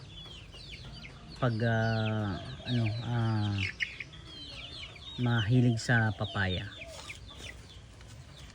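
Farmhouse chickens cluck and cackle in several loud, close bursts, with a person speaking briefly between them.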